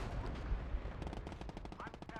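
Tank cannon fire in the World War II game Gates of Hell: Ostfront, with loud booming shots and rapid gunfire crackle rolling over a busy battlefield rumble, with a voice talking briefly.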